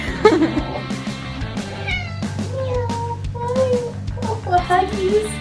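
A cat meows repeatedly at a pet adoption center, several drawn-out, wavering cries close by, with people talking softly around it.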